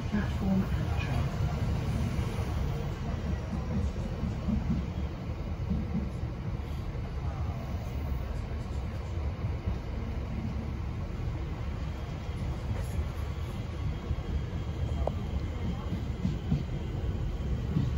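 Train pulling into Deptford station in London, a steady low rumble and rolling rail noise filling the carriage for the whole stretch, with no clear voices over it.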